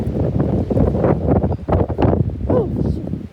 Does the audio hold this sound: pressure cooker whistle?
no